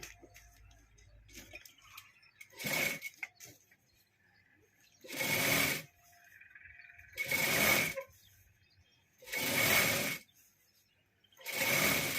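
A sewing machine stitches a Rajputi kurti in repeated bursts of fast mechanical whirring, each run lasting a second or two with short pauses between, close and fairly loud.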